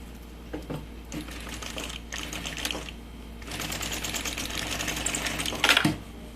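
A sewing machine stitches a large changing mat in bursts of rapid mechanical chatter separated by short pauses, close and clear, with a brief sharper clatter near the end.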